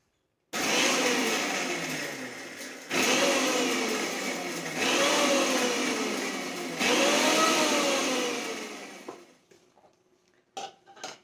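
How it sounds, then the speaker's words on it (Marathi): Mixer grinder on pulse mode churning jaggery, sesame seeds and spices, loud whirring motor in four close bursts separated by brief stops, each spin sounding gritty as the coarse mixture tumbles, followed by a few faint clinks and taps. "हे सगळं साहित्य आता मी पल्स मोडवरती मिक्सरमध्ये फिरवून घेणार आहे"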